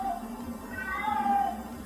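A pet cat yowls in distress, drawn-out wavering meows rising and falling across the whole stretch, moderately loud against a low room hum.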